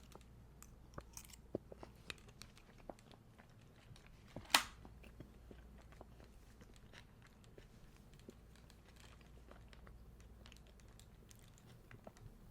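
Someone chews Trader Joe's food close to the microphone at a quiet desk, producing soft irregular crunches and clicks, with one sharper crackle partway through.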